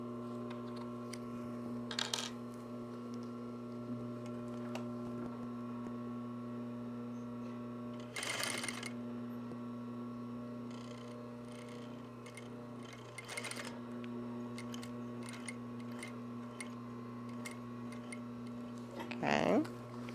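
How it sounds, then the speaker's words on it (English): A sewing machine hums steadily while stitching a fabric shoulder bag, its motor drone broken by a few sharp bursts of fabric handling and clicks, close and fairly quiet. "I'm going to sew down to the other side, to the fold, and then I'm going to sew my second diagonal."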